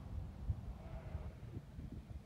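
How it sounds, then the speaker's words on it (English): Sheep on a farm bleat a few times in short, fairly faint calls over a low rumble of outdoor background noise, with no talking. "Stupid sheep."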